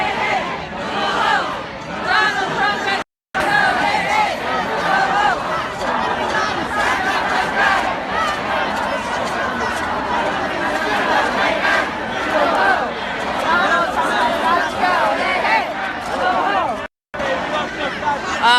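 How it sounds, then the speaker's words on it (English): A large crowd at an anti-Trump protest march keeps up a dense, steady hubbub of chatter and voices, loud and continuous throughout, with two brief dropouts. "It's a big crowd."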